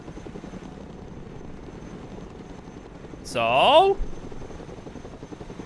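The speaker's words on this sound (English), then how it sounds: "Here comes the Chinook." A Chinook helicopter arrives in the video game Broken Arrow: a low, steady rotor rumble with a brief swelling, pitch-bending whine in the middle, and a short spoken word.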